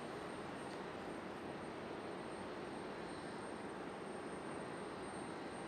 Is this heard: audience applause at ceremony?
no